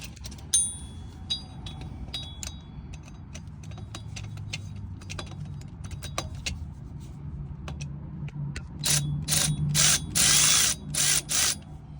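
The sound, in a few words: tightening bolts on a 2005 Dodge Dakota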